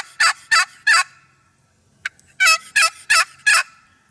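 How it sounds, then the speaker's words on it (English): A wooden turkey box call sounding a series of crisp, loud yelping notes up close: three quick yelps, a short pause with a faint tap, then four more evenly spaced yelps, with no voices. "when they're using a box call, especially when they're yelping"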